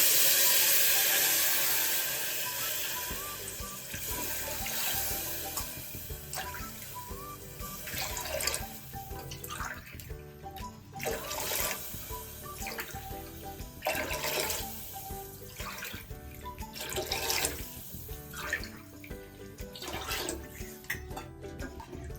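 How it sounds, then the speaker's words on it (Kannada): Water is poured from a cup into a pot for khara pongal, eight measures in all, as a continuous splashing stream with repeated surges and brief pauses between pours. "8 ಲೋಟ ನೀರು ಹಾಕ್ತಾಯಿದ್ದೀನಿ."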